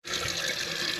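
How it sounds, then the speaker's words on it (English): Water rushes steadily into a tank, a constant hissing flow that starts abruptly and continues without pause. "So right now the water tank, I believe, is filling up."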